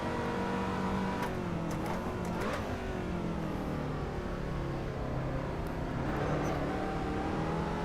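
Lotus 2-Eleven racing around Silverstone International in Assetto Corsa, its engine droning steadily and loud throughout, with pitch rising and falling through gear changes and a few sharp shifts or pops near the start.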